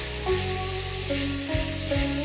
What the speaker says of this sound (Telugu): ఫ్రై చేసుకుంటున్నాను.